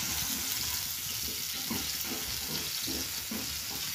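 Chopped garlic fries in the oil left from frying chicken for chilli chicken, a steady quiet sizzle and hiss with light scraping and stirring throughout.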